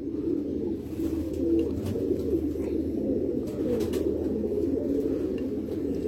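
Low, soft cooing from pigeons repeats under a constant background hum, close by and steady, with occasional faint chirps and no voices.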